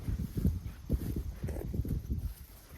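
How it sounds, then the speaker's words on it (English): Horses walking outdoors at an off-grid RV site, hooves clip-clopping in a steady, uneven rhythm, fairly close, with faint ambient background and no talk. "look at the horses"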